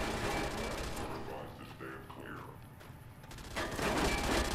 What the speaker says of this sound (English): Take a whole bunch of shots at the head